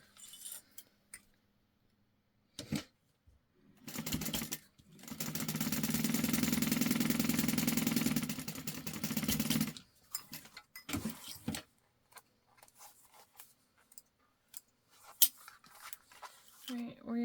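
Sewing machine stitching down the long sides of a zipper pocket on a wristlet, a steady mechanical whir running for several seconds between quiet handling noises and brief clicks.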